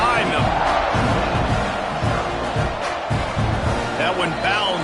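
A stadium crowd roars steadily before a kickoff in the college football video game CFB26, Texas A&M against Tulane, loud and constant, with an announcer's commentary running over it.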